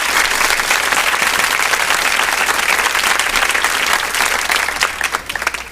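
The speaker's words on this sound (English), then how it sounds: "I had to let those claps, finish out" Loud, dense crowd applause and clapping from a live evening show audience, a steady roar lasting several seconds before thinning out slightly at the very end.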